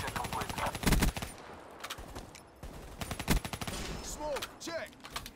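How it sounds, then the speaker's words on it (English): A Kuda assault rifle in a video game fires in quick automatic bursts, rattling close and loud, with brief pauses and a few faint electronic tones between volleys. "Kuda, the newest assault rifle."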